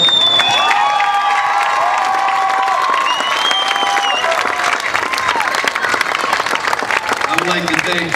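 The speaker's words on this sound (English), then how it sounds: "I'll give you guys a round of applause also." Loud, dense crowd applause and cheering at a celebration for boxer Kelly Pavlik, filling the whole stretch with steady clapping, whoops and shouts and a few higher voices rising above the roar.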